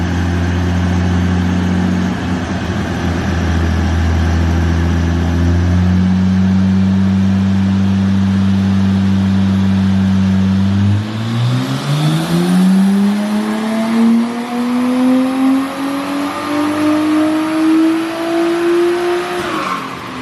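An RB25 turbo engine car running on a dyno, loud and close, droning at steady revs before climbing in a long rising pull, with a whining, roaring tone that holds near full throttle.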